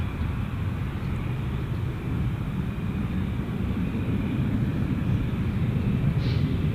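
A Qantas airliner arriving from Sydney lands at Gold Coast Airport, heard as a distant, steady low roar of jet engines with some wind noise, no one talking over it.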